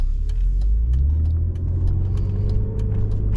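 A BMW E46 drives along a road on a sunny day, its steady low engine hum and tyre roar filling the cabin with a slight rise in revs, while small rattles and clinks sound from inside the car.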